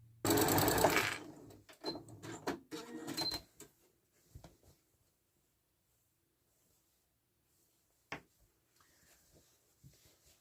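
Sewing machine stitching fabric seams, a brief loud mechanical whir at the start, then scattered clicks and handling taps before the room falls mostly quiet.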